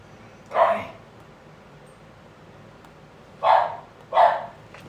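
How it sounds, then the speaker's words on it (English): A dog barks three times, loud and fairly close: one bark, a pause of nearly three seconds, then two quick barks in succession, over a low steady background hum. "He's been real annoying, that dog."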